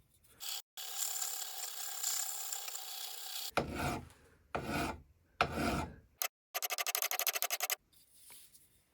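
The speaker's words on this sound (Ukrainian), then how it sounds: "Далі піде робота наждачкою і руками." Hand sanding of a shaped knife handle with sandpaper, a close rasping rub in long sustained strokes followed by shorter bursts and a quick run of rapid back-and-forth scrubs, with no talking.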